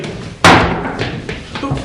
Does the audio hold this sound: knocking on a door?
yes